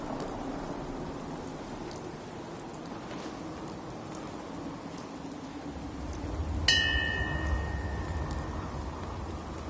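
Steady rain falls in the video game Fallout 4, a continuous hiss of drops on surfaces with a faint distant thunder rumble swelling late and a brief bright game tone cutting in.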